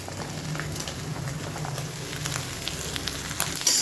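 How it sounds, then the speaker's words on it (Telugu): Onions, green chillies and chopped vegetables fry in a pan, giving a soft, continuous sizzle and crackle, fairly quiet and steady with no talking. "తరిగి ఉంచుకున్న కాయగూరలు ఇప్పుడు వేసుకోవాలి."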